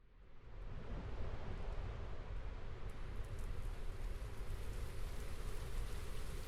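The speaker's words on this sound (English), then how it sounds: "as you can see and hear, there is rain." Steady rain falls in the video game Brickadia, a dense, even hiss of drops over a city scene, continuous and moderately loud with no voices.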